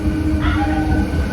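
A Vijayawada–Guntur special passenger train pulls into Mangalagiri railway station, a brief, steady, close rumble of rolling carriages.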